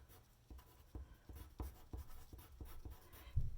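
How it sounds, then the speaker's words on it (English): Pen or pencil writing on a sheet of paper, a steady run of short scratchy strokes with a few firmer taps, close and quiet, no voices. "we're going to write our names on the top"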